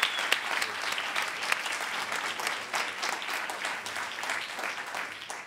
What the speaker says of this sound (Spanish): un fuerte aplauso para la charanga Urreta Vizcaya